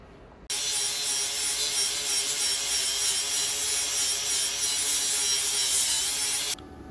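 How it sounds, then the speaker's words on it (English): A power grinder works steadily on car brake parts for a Brookville Roadster, one continuous loud abrasive whine that starts and stops abruptly. "I'm getting ready to grind on this thing"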